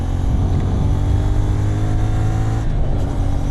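A Kawasaki 450NK motorcycle fitted with an SC Project slip-on exhaust runs loud and close with a steady, deep droning engine note that dips briefly near the end, and no talking.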